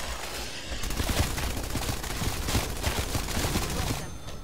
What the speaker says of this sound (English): this AK-74U is really good